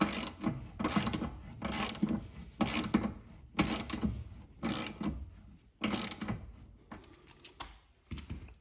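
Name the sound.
ratchet with 17mm socket tightening rear camber arm bolt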